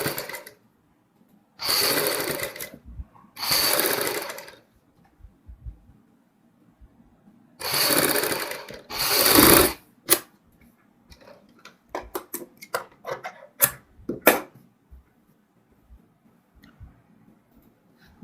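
Sewing machine stitching the neck strip of a kurti, in four loud bursts of running stitches separated by pauses, followed by a series of short clicks and ticks near the end.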